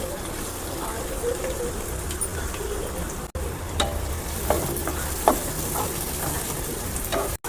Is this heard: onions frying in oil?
yes